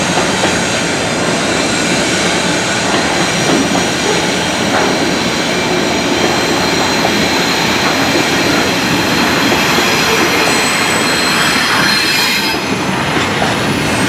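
An intermodal freight train pulls away in the dark, its rolling wheels making a loud, steady roar with high metallic squeals rising over it toward the end. The sound is close and continuous, and no one speaks.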